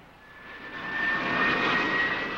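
A jet car with 7,500 pounds of thrust roars steadily, swelling louder over a couple of seconds with a broad rushing whine and a thin high tone riding on top.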